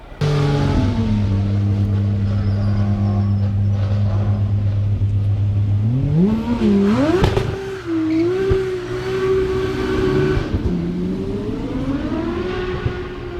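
A Pagani Zonda 720 supercar at the Goodwood Festival of Speed idles loudly, then revs hard in rising and falling sweeps. A high engine note holds before it settles back toward a lower drone.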